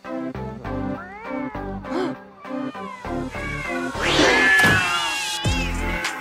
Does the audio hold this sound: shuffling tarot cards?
no